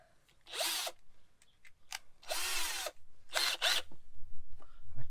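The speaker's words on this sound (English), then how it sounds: "here we go for the Hyper Tough Asda Special. It's not a hammer drill, it's a drill and a screwdriver" A Hyper Tough cordless drill driver from Asda whirs in three short bursts, near and loud, with brief pauses and small handling clicks between runs.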